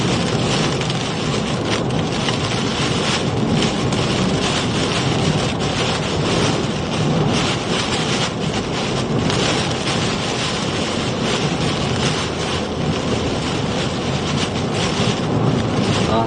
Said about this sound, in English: We got intense wind still going on here.